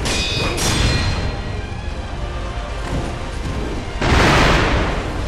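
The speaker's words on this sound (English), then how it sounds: "You got the fireworks out" Fireworks burst during the Owl boss fight in Sekiro: Shadows Die Twice at Hirata Estate, a dense wall of booming blasts under game noise, with a fresh loud burst near the end.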